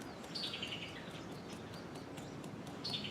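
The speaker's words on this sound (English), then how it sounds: "Can you hear the birds in the background?" Birds chirp in short bursts heard from a back porch against a steady hiss of background noise, with a couple of brighter calls standing out, no talking.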